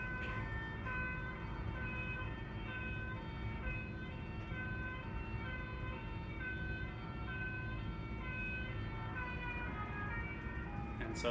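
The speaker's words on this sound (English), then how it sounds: "as soon as that fire truck went past you, you could hear a very clear change in the frequency of that sound" A fire truck siren wails continuously as the vehicle passes by, its pitch dropping noticeably in a Doppler shift, loud and steady over road traffic noise.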